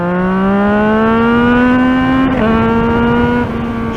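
A 2024 Yamaha MT-09 motorcycle accelerates hard, its loud engine note climbing steadily in pitch through a gear, with brief dips at each shift before rising again, close and dominant throughout.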